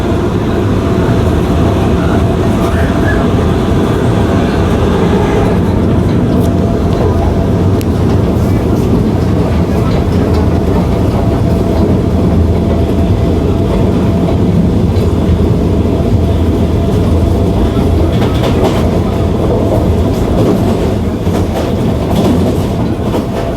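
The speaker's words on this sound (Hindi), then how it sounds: "तो अभी हम स्किप कर रहे हैं गोले वाला स्टेशन को एट फ्लैट 110 kmph" A Vande Bharat express train on its inaugural Firozpur–Delhi run speeds through a station at about 110 km/h, giving a loud, continuous onboard rumble with steady clickety-clack of wheels over rail joints and no pauses.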